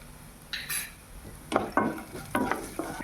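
Roasted gram dal stirred with turmeric in a little oil in a pan, heard as a soft sizzle beneath several sharp scraping and clinking strokes of a spoon against the metal.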